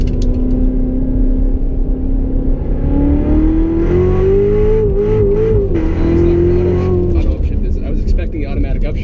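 Chevrolet Corvette Z06 with Z07 package and automatic transmission pulls hard around a figure-eight track, its engine note climbing steadily and loud, with a person talking over it.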